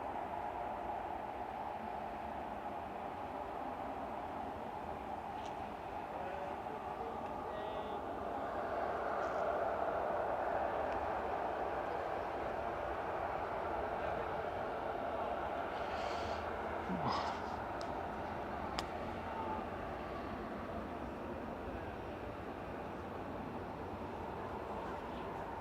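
EasyJet airliner engines spool up at Manchester Airport, a steady broad roar with a rising whine, distant but continuous for about twenty-five seconds, swelling slightly midway, with faint thumps and rustles nearby.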